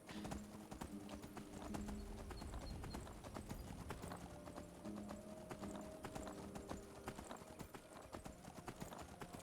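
Horse hooves clip-clop in a steady rhythm in the video game Skyrim, faint and continuous, with soft background ambience and occasional snorts.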